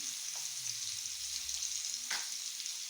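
Potatoes frying in a pan with turmeric and salt, a steady soft sizzle running throughout, with a couple of brief utensil scrapes and no talking.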